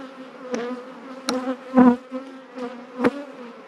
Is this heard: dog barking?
no